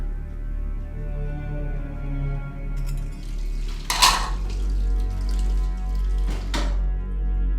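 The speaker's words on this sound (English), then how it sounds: "I am still washing the dishes." Pots and plates clatter at a sink during dishwashing, two distinct clanks a few seconds apart over a steady low background hum, with no voices.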